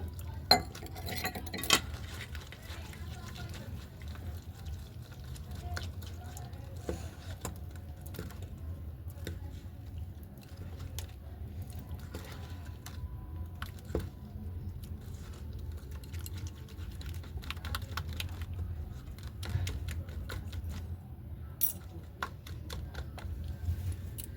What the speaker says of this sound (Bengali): আবারও জল দিয়ে একটু মেখে নেব।